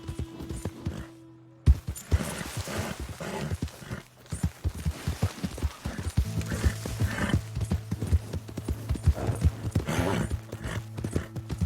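Steady clip-clop of horse hooves walking close by in Red Dead Redemption 2, with a brief whinny near the start and a low hum underneath.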